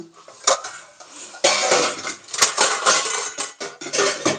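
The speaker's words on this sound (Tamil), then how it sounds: "இந்த டிஃபன் பாக்ஸுக்கு மேல் மூடி தேடுறது தான் பெரிய பெரிய பெரிய பிரச்சனையாக இருக்குது காலையில்" Steel tiffin boxes and lids clattering and knocking together in a kitchen as they are rummaged through, with irregular close metallic bursts and brief pauses.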